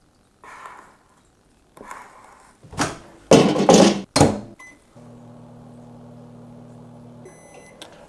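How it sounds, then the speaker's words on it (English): Microwave oven in a home kitchen, used while making a pie, with clattering and door knocks followed by a steady running hum, then a few short high beeps at the end. "Do you think I should put this in the microwave?"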